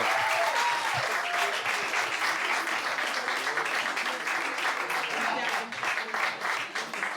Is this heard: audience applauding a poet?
yes